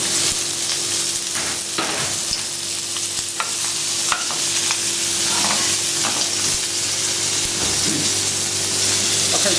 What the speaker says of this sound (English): So now we're just going to add the squid with the mussels.